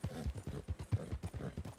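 Hooves of a thoroughbred horse clip-clopping in Red Dead Redemption 2 Online, a quick, even series of close, distinct thuds with no other sound over them.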